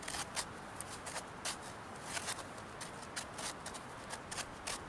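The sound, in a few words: dacite stone scraping wood into fine curls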